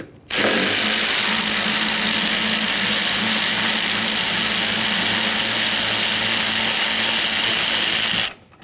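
A ratchet tool removes a 10 mm mounting bolt near the blower motor resistor on a 1998–2011 Ford Ranger, producing a steady, close, continuous mechanical buzzing whir for about eight seconds with no talking.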